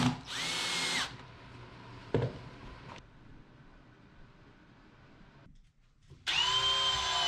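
A power drill whines in short bursts while driving screws into glued wooden corner posts for an elevated octagonal box blind, with quieter pauses between the runs.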